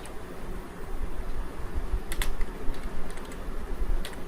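Fingers typing on a computer keyboard, a steady run of close, quick key clicks over a faint fan-like background hum.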